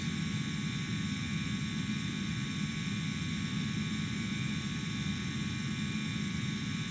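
An Airbus A330-200 airliner in Middle East Airlines livery climbs out of Beirut airport in the X-Plane simulator, with a steady, dense engine roar and hiss holding constant throughout.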